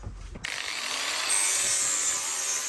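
An angle grinder with a coarse sanding disc grinds abrasively against the end of a wooden board in a harsh, continuous rasp, close up and steady after a short start.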